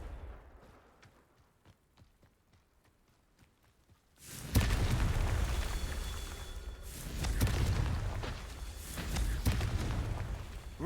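A Confringo blasting spell explodes in a video game, quiet ticking for four seconds then a sudden loud blast followed by rumbling, crackling debris and a second swell of booms.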